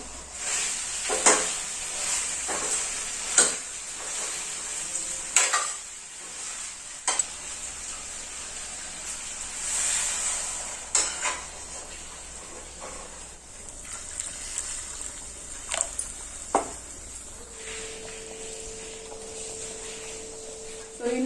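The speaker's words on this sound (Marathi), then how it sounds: "आधी मसाल्यामध्ये मस्त कलसून घेऊ आपण परतून घेऊ छान" Potatoes sizzle in hot oil with spice masala in a pan while a spoon stirs and scrapes them at irregular intervals.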